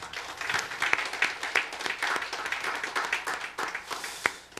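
A church congregation applauding together, dense clapping from many hands that holds steady for several seconds, heard from within the room with no talking over it.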